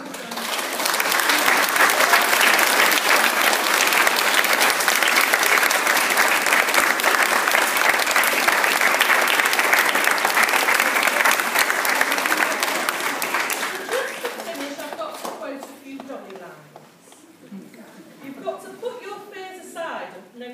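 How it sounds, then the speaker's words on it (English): Loud, sustained applause from a school leavers' assembly audience of parents and families, a dense wash of clapping lasting about thirteen seconds before it fades away into quieter room noise and faint music. "I want you to give your parents and families a big round of applause"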